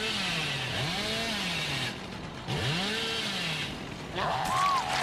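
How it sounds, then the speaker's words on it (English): A revving chainsaw in the horror game Dead by Daylight whines steadily through the whole stretch, its pitch sweeping up and down in repeated arcs, with a brief dip midway and a higher ringing tone near the end. "I'm getting greedy for chainsaws here that I shouldn't be going for."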